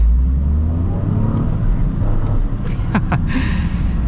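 Hot hatch car engine with IMT auto rev matching, a loud continuous engine drone with brief rev blips during downshifts near the end.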